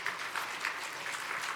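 Congregation applause during a Korean church worship service: a steady wash of many hands clapping at once, dense and moderately loud, with no voices over it.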